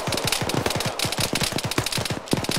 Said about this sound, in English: that's just dude shooting off full auto